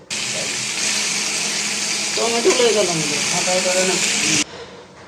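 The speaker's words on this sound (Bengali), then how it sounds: "চাপিলা মাছ ভেজে নিচ্ছি" Chapila fish frying in a pan make a continuous hissing sizzle, with someone talking over it partway through before the sound drops away.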